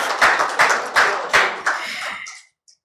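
Applause from an audience at a Nigerian health report launch, a burst of claps with several louder surges that thins out and fades to silence near the end.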